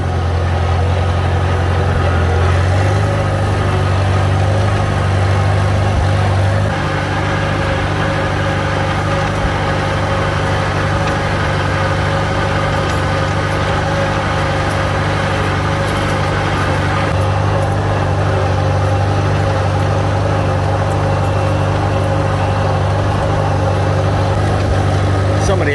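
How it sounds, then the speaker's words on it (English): A Farmall spraying tractor engine idles steadily with a deep low rumble throughout, with faint talk mixed into the background. "Definitely think I found a spraying tractor."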